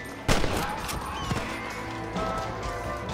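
Gunfire in the western video game Red Dead Redemption: a few scattered shots crack over a busy, fairly quiet background of game ambience.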